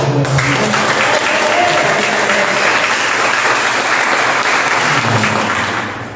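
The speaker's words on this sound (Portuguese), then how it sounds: "Vamos dar uma salva de palmas para Jesus." Loud, sustained applause from a church congregation at a family worship service, a dense even wash of clapping hands lasting about six seconds and tapering at the end.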